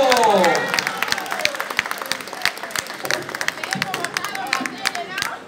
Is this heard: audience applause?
yes